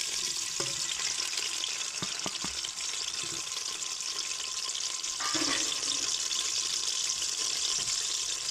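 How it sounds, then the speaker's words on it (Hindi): Onions hit hot ghee and fry with a constant bright sizzle, punctuated by a few soft clinks and stirring sounds, heard close with no talking. "अब इसके अंदर प्याज डालते हैं।"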